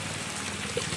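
Raw rice tipped into a pot of boiling water while cooking fried rice, a short steady watery pouring rush with a small splash near the end.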